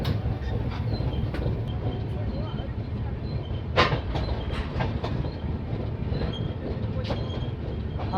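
The Digha–Visakhapatnam Express, setting out from Digha station, rumbles steadily with loud continuous rolling noise and occasional sharper clatters of wheels on the rails.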